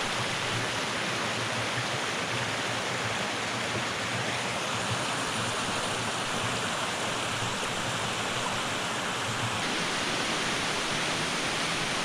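Close-up babbling water at the lower part of a brook waterfall in a woodland plantation: a steady, dense rushing and splashing that stays constant throughout, with no voices.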